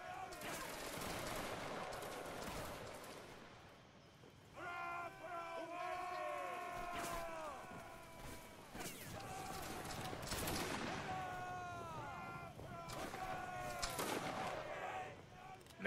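Musket volleys crack out in a Roblox Waterloo battle between British Army and Russian line infantry, sharp broadband bursts recurring among a crowd of shouting voices and sustained, wavering vocal tones.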